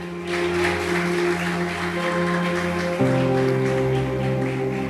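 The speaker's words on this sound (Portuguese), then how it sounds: "aplauda ao Senhor nessa noite" A church congregation at an evening service claps together, a broad continuous patter of hands over sustained organ-like musical tones that shift pitch midway.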